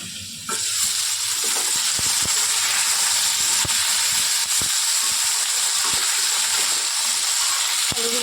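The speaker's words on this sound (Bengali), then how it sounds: "এবার আলুগুলো খানিকক্ষণ ভাজা হোক" Potatoes frying in hot oil in a pan give a loud, steady sizzle with a few sharp crackles and pops throughout, and no voices are heard.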